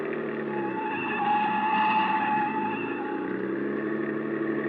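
A car speeds through a chase in an old-time radio drama, its engine a steady, sustained roar with a slight surge in the middle, heard alone without voices.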